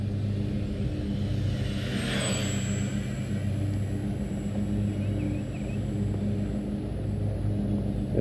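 A steady, low engine rumble with a faint high whine runs throughout, like a small model airplane droning quietly overhead at a distance; an FMS Ranger RC trainer plane flying quietly.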